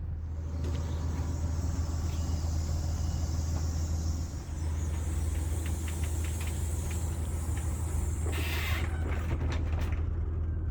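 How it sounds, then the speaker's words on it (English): A Beaver motorhome moves forward with a steady low engine rumble close by. A hissing burst near the end sounds like an air brake release. "I'll drive the Beaver forward and we'll compare the 2 of them"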